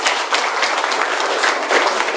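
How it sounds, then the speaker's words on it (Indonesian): Loud, close audience applause at a corporate event honoring a company, a thick, continuous wash of many hands clapping that holds steady from start to finish. "Tepuk tangan dong untuk Maipom"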